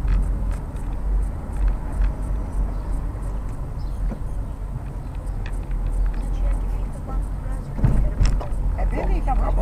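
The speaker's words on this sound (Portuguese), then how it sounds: "Aí a primeira caminhonete aí vindo do interior, o carro." A loaded pickup truck rolls past on a town street in Piauí, Brazil, its engine rumble steady and fairly close amid continuous road traffic noise, with a brief louder swell near the end.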